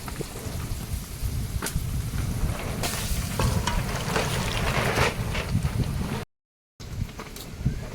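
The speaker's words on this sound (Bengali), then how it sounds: "তেলের মধ্যে একটু লবণ আর হলুদটা দিয়ে ডালটা ঢেলে দেবো" Lentils hit hot oil seasoned with salt and turmeric, giving a dense, crackling sizzle with scattered pops and sharp ticks that runs steadily, then cuts off briefly near the end before resuming.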